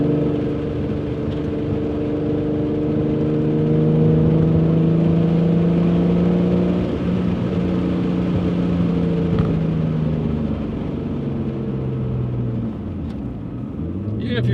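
A 2007 Nissan 350Z with a 500+ hp Greddy twin turbo and Motordyne TDX exhaust accelerates hard, its engine note climbing through gears in steady rising sweeps, loud and close throughout.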